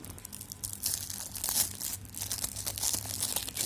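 A package of Jadayel anti-hair-fall hair oil being opened, with close, crinkly tearing and crumpling of plastic wrap in quick irregular bursts, quiet and without talk.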